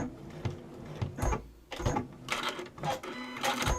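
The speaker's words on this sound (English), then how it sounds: "we're top stitching those folded edges together" A sewing machine top stitches the folded edges of a small fabric bag, running in several short bursts of rapid mechanical chatter with brief pauses between them, close and moderately loud.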